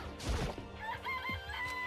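A rooster in the video game Danganronpa: Trigger Happy Havoc crows and clucks, a loud burst near the start followed by a few shorter warbling calls, alone without speech.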